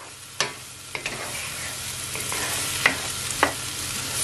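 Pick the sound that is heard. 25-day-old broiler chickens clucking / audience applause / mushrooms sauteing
mushrooms sauteing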